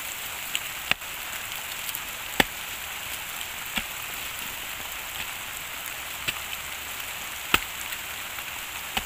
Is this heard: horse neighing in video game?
no